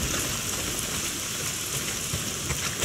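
Heavy rain pours steadily in the video game Days Gone, a dense, even hiss of downpour spread across the whole stretch with no pauses and no voices.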